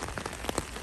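Heavy rain pours steadily in Medjugorje, a dense, close hiss of drops striking hard surfaces with a few sharper splats standing out, and no voices.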